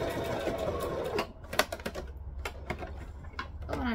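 Sewing machine back stitching a wrap skirt, with short bursts of rapid mechanical stitching and brief pauses, close and moderately loud, with no talking.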